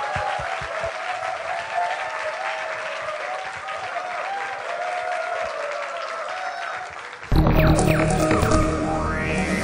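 Students at a talk concert applaud to welcome football coach Shin Tae-yong, with sustained dense clapping for about seven seconds before it cuts abruptly to a louder, different room sound.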